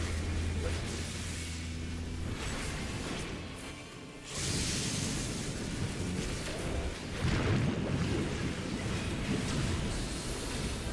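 A thunder attack effect from a Final Fantasy XIV raid: a rumbling, rain-like wash of crackling noise with a low boom, steady and fairly loud throughout, a brief dip near the middle, with game sounds layered in.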